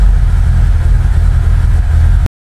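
A modified 2.0-litre engine in a 1993 Volkswagen Santana, built to 422 wheel horsepower, rumbles loud and steady up close for about two seconds, then cuts off abruptly into silence.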